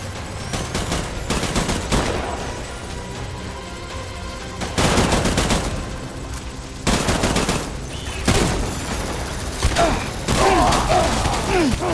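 Machine gun fire in the video game Death Stranding, repeated loud sustained bursts of automatic shots separated by short pauses, with brief voices in between.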